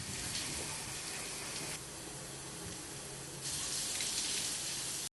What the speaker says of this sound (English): A shower.